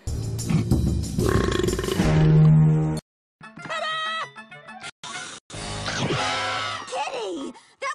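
A compilation of burps from animated female cartoon characters: several loud, drawn-out belches and groaning vocal bursts separated by short silences, close and voiced.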